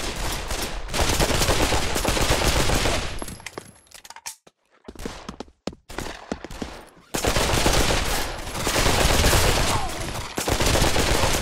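Rapid bursts of gunfire in the virtual reality shooter game Pavlov, loud and sustained automatic fire that breaks off into scattered single shots and clanks before another long burst, with no talk.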